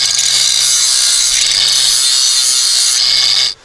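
A power tool grinds steadily and loudly at the cut edges of an exhaust pipe, a continuous harsh abrasive rasp that stops abruptly near the end.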